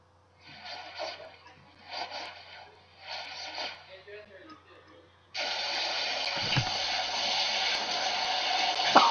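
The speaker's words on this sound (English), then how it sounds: "I'll take a shower." A shower in the horror game Paranoic runs as a steady, loud hiss of spraying water that starts abruptly partway through and continues to the end, after a stretch of a person talking.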